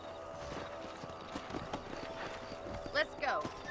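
A horse in Red Dead Redemption trots along with rhythmic hoofbeats and a brief whinny near the end, set against game ambience with people talking over it.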